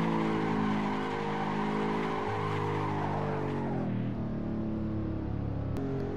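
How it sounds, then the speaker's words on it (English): In Assetto Corsa, a car enters a drift in second gear with its engine droning loudly and tires squealing. The pitch bends and drops partway through, then settles as the slide continues. "you want to give it just enough throttle to initiate the drift"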